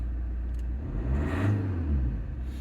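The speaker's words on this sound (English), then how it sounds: "if I just snap the throttle a bit" A car engine fitted with a turbo or supercharger boost control solenoid idles at a low rumble, then swells in a brief throttle snap around the middle, rising and falling back to idle, close and steady with no talking.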